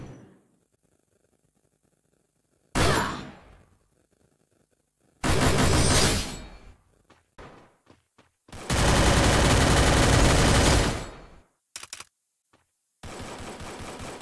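Shotgun blasts and automatic gunfire in the mobile shooter Free Fire, separate loud bursts of rapid shots with short silent gaps between them, one long sustained volley, and a few quick isolated pops.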